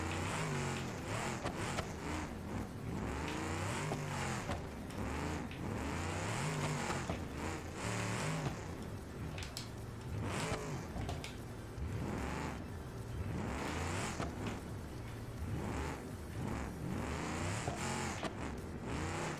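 Car engines rev and whine in a racing video game, a continuous loud drone of rising and falling engine pitch with repeated acceleration sweeps and passing vehicles, no speech.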